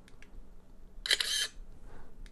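A smartphone on a Hohem iSteady Q selfie-stick gimbal fires its camera shutter in photo mode: one short, crisp click burst of about half a second, standing out from quiet background hum.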